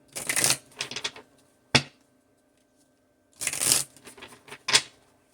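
Oracle cards being shuffled by hand: two clusters of quick papery riffles and slaps with a single sharp tap between them, close and fairly loud, with no talking.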